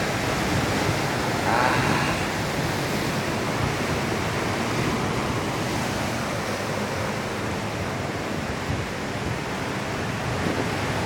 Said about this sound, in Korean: 파라솔 밑에 앉아서 파도가 넘칠대는 것을 한번 구경을 해보도록 하겠습니다.